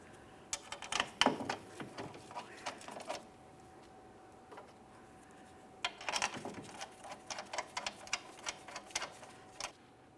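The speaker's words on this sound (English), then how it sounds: "It's a little bit of a balancing act here to get everything aligned and get those mounting bolts in" Mounting bolts fitted into a rear hub assembly on a Mitsubishi Lancer, with close, dry metallic ticks and clicks in two short clusters separated by a quiet pause.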